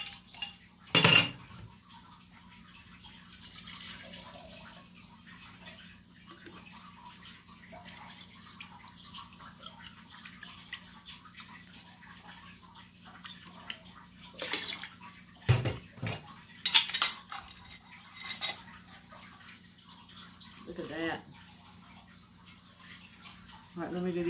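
Glass jars for homemade wine clink and knock against each other and a hard surface in a few scattered bursts, with long quiet stretches and a faint background hum.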